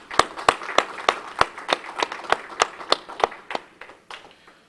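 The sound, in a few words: audience applause for congressional staff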